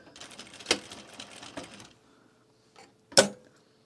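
A sewing machine runs in two short bursts while stitching a garment duffle bag, with gaps of quiet between them and a few sharp clicks near the end.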